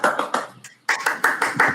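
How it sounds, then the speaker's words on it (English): Quiz participants clap in a short, dense round of applause from a small group, briefly thinning before picking up again. "Applause, man."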